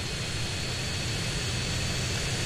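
Airplane engine in GTA San Andreas, a steady, loud, continuous roar with broad jet-like rush throughout and no pauses.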